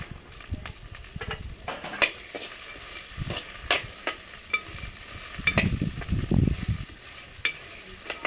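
A spoon stirs semiya upma with green peas in a pan, giving irregular scraping and tapping strokes with a light sizzle underneath, close and fairly loud, no voices.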